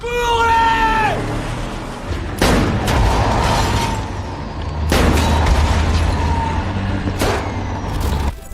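A truck explosion and gunfire in a scene from The Last of Us series, with repeated heavy booms and crashing bursts over a dense, noisy roar, a rising tonal cry near the start, loud and chaotic.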